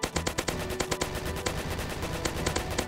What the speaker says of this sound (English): keep riddling this guy with bullets